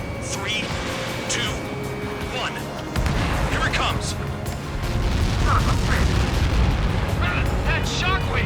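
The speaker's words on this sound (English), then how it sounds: "That shockwave! My aircraft's gonna break up!" A missile explosion's shockwave booms and rumbles through the Ace Combat 7 aerial combat, heavy sustained blasts growing louder past the midpoint with aircraft engine roar and tense radio voices speaking over it.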